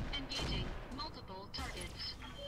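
Gunfire in the video game Roguepoint, with several distant booming shots and bursts spread over a couple of seconds, fairly quiet under other game sounds, with no talk.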